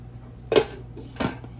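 Cooking pan of potato and egg being covered with a lid: two distinct metallic clanks about half a second apart, close and clear with little else around.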